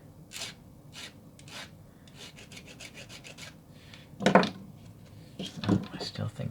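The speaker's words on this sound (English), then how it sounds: "There's extra metal flash here, so I'm going to file that off right now." A hand file rasps excess metal flash off a part of a curved kerosene fluid lighter made of alloy metal, in a series of short, close scraping strokes with louder rasps near the end, alternating with a voice talking.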